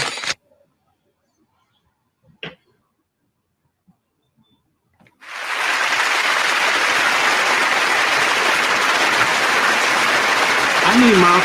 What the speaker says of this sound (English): That little lounge clap that I just got was not good.